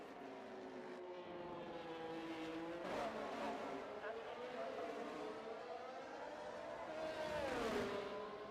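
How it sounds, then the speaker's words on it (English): A McLaren race car on an out lap at Monaco in a racing video game: a steady engine drone rising and falling in pitch as it shifts and accelerates, moderately distant, under low commentary talk. "As we do have the McLaren of Rex as he is on his outlap right now."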